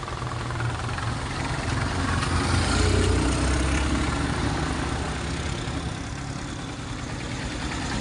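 A motorcycle engine, just fitted with a new stator after a faulty starter, rumbles at a steady idle, a continuous close, fairly loud mechanical drone with no speech over it.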